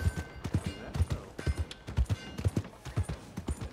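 Horse hooves clip-clop in steady rhythm in Red Dead Redemption 2, a close, regular patter of hoofbeats on the ground carrying on alone without talk.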